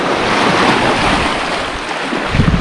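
Steady roar of ocean surf breaking at Sopapai beach, a continuous broadband wash of waves with wind buffeting the microphone, loud and unbroken.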